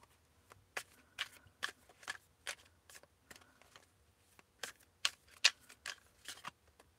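Osho Zen Tarot cards being shuffled and drawn, a quiet close series of crisp flicking snaps and slides in irregular bursts.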